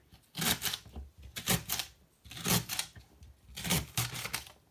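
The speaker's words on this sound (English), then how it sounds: "now I'm going to chop up this rhubarb and I'm going to stew it in my saucepan" A knife chopping rhubarb stalks on a board before stewing, four quick bursts of crisp cutting strokes in a steady rhythm, close and clear with no talk.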